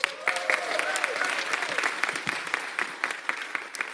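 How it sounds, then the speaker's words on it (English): An audience at a city council meeting applauds: a dense burst of clapping fills the room, then thins into scattered claps, with voices faintly present beneath. "Let's give her another round of applause"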